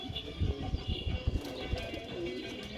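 Low, throaty coos from Canadian tumbler pigeons repeat in quick pulses up close, with a few faint chirps over a quiet background.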